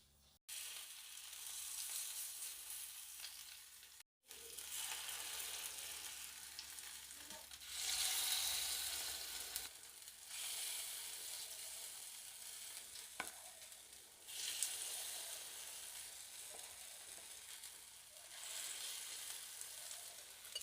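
Rava appe batter sizzles in a hot oiled appe pan, a continuous close crackling hiss that swells and fades with a few brief clinks.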